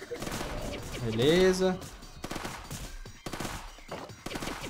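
Rapid automatic gunfire from a skull companion in Ghost Survivors, a pixel-art survival game, crackles in short repeated bursts under a voice and a brief rising electronic chirp.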